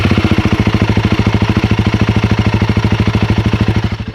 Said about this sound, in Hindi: This is the ideal engine sound.